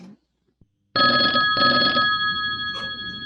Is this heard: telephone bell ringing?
yes